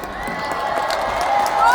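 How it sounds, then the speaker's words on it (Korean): An outdoor crowd at a community residents' day celebration concert in Yeongjong claps and cheers in a steady, dense roar that swells slightly toward the end. "여러분 박수가 부족한 모양이에요"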